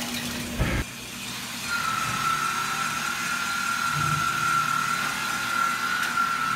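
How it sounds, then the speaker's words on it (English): Water runs into the tank of a bottle washer machine, a steady, quiet rushing flow with a sustained whine, opening with a brief clunk. "The water is now filling into the machine."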